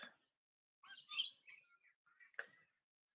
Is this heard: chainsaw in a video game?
no